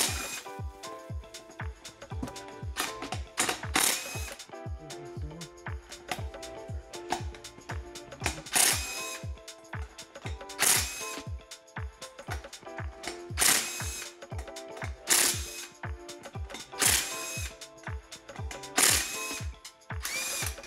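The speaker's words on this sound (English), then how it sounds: "We're going to hit this with a 1/2 inch gun." A 1/2 inch impact gun fitted with a 3/8 adapter breaks loose the flywheel bolts on a 2011-2017 Mustang GT. About eight loud, close, rapid hammering bursts are separated by short quiet gaps.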